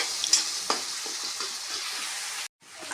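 Chillies and garlic frying in oil in a pan: a steady, close sizzle with a few soft stirring scrapes, cutting off abruptly near the end before faintly resuming.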